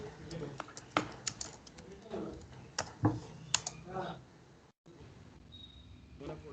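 Keys clatter on a computer keyboard as a folder name is typed on a desktop, a run of close, irregular clicks with brief pauses and a faint background hum.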